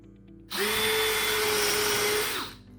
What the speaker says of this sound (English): So I'm going to pre-drill these braces and put the screws in it.